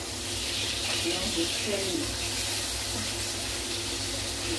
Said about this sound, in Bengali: এদিকে রান্না হয়নি আমার এখনো মাছ ভাজা বসিয়েছি